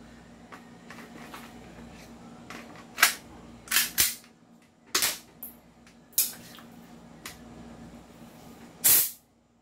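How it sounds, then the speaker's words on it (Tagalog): Budget China-version Glock 17 Gen 5 gas pistol firing: a handful of sharp, close pops spaced unevenly over several seconds, each a short bright crack, with a faint hum between shots. "The Glock 17, Budget Meal Edition, China version, firing."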